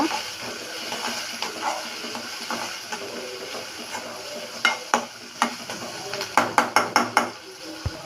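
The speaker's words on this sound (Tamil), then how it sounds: "இப்போ நம்ம வெங்காயம் கருவேப்பிலை ரெண்டுத்தையும் ஆட் பண்ணிக்கலாம்" Onions and curry leaves sizzle with rock salt in a pan. The steady frying hiss gives way to a run of sharp spatula clacks and scrapes toward the end.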